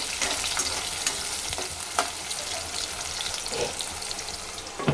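Onions and green chillies frying in oil for a tomato curry, a steady close sizzle with scraping stirs throughout and no one speaking.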